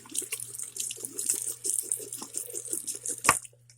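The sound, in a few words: tap water running over a leg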